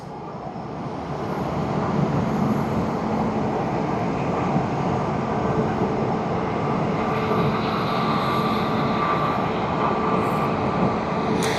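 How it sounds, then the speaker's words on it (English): A jet airliner rolls on a runway at Tokyo Haneda Airport, a steady broad engine roar from a distance that holds loud and even throughout, with no talking. "We see another plane coming far off on one of the other runways."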